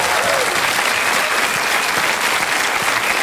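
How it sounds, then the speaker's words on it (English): A television comedy panel show studio audience gives a sustained round of applause, loud and even, with a presenter's voice faint underneath. "Give them a round of applause."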